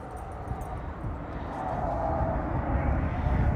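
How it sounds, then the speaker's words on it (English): A broad, rumbling roar of two Navy fighter jets from Whidbey Island Naval Air Station passing overhead at Deception Pass State Park, building steadily louder over a few seconds, with no talking. "we had two more fighter planes go over"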